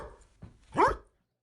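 A dog lets out a short bark, preceded by a couple of soft huffs or whimpers, fairly close against a quiet background.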